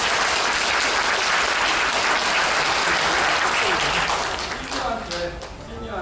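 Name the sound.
audience applause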